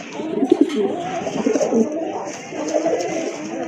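Lahori pigeons coo repeatedly close by, soft throaty burbling calls overlapping one another for a few seconds, with no talking.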